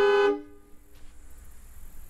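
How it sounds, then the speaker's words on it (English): An RV's factory electric horns and an added air horn blare together in one short, loud harmonic blast, then cut off, leaving quiet outdoor background. "It's both the electric horns that came with it and the air horn."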